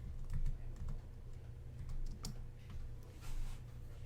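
Someone types on a computer keyboard, producing quiet, irregular clusters of soft key clicks over a low background hum, with no talking.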